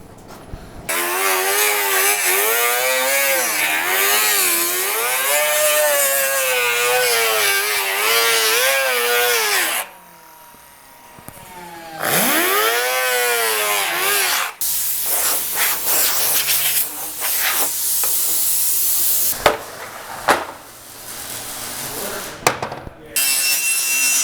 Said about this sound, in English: So now I'm just going to go around with my hand grinder and straighten up my edges, get to the scribe line.